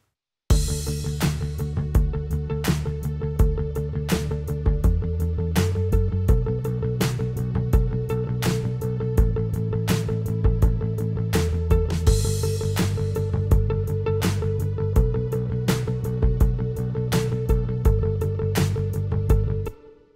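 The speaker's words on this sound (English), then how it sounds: "now let's hear that guitar part in context with a little reverb" An electric guitar part with a touch of plate reverb plays in a full mix over a steady drum beat, with loud repeated hits and shifting chords running for about twenty seconds before ending abruptly.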